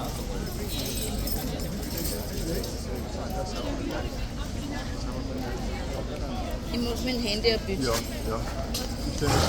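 A guard's horse bothered by flies stamps its hooves in an irregular clip-clop, heard amid a steady crowd babble and background chatter.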